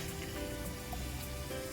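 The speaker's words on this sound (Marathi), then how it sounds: "आता इथे भाजीला पण मस्त उकळी आलेली आहे." Spinach buttermilk curry boils in a pan, giving a dense, steady bubbling and fizzing like light rain, close and even throughout.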